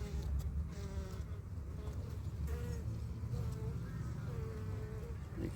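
Honeybees hum around an opened hive during an inspection and honey harvest, a steady low buzzing swarm close by with individual bees droning past, and no talking.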